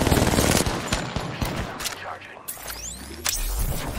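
Heavy automatic gunfire in an Apex Legends battle, dense rapid bursts up close mixed with whooshing ability effects and scattered shots, with a player talking over the fight.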